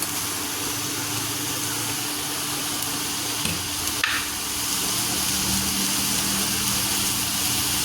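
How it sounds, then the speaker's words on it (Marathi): Ground methi paste with turmeric and salt frying in a pan, a continuous close sizzle with a steady hum underneath and a couple of faint stirring clinks, no talking. "हे वाटणं छान असं परतून घ्यायचं हळद"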